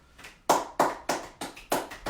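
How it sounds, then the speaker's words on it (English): Slow clap: six or seven single sharp hand claps at a steady, unhurried pace about a third of a second apart, close and clear, each with a short ringing decay, no talking. "we're gonna start a slow clap"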